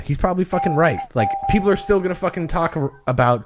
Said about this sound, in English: Sorry, that was my doorbell.